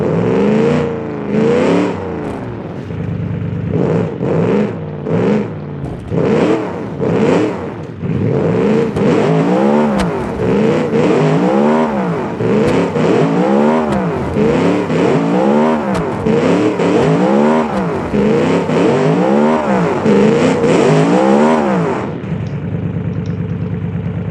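An all-wheel-drive car in the BeamNG driving game churns through off-road mud, its engine revving loudly in repeated rising and falling surges, close and continuous with no talk over it.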